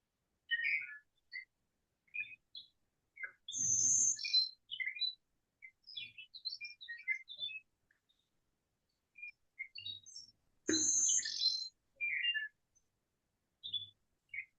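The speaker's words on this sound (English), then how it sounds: "blue-winged warbler. I will let you play the bee buzz sound." Blue-winged warbler song recording, with thin, insect-like buzzy phrases repeated at intervals among scattered high chirps and a couple of louder bursts.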